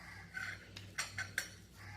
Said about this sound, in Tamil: ஒரு மிக்ஸி பவுல் எடுத்திருக்கோம்.